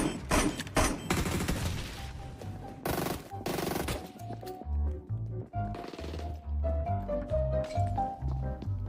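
Gunfire in a shooter video game: bursts of rapid automatic shots and single cracks early on, then quieter game sounds and footsteps-like thuds, loud and close.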